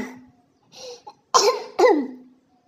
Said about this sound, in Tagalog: inuubo kasi ako